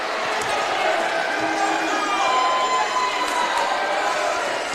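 Crowd at a high school basketball game between Evansville Christian and Owensboro Senior reacting noisily to a disputed charge call, a loud, sustained mix of voices and shouts filling the gym.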